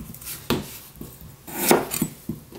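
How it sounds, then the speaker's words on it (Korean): A knife cuts radish into thick julienne strips on a board for bossam-style radish kimchi, giving several sharp, close chops spaced unevenly through the moment, with a louder cluster in the middle. "약간 굵게 채 썰어서 하는 거 보여드리겠습니다"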